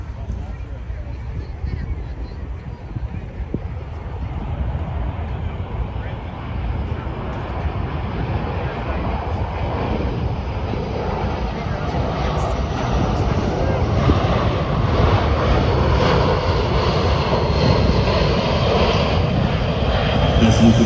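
A USAF C-17 Globemaster III jet transport flying at an air show, its deep engine roar steady and loud, building slightly, mixed with wind buffeting while an announcer talks over it.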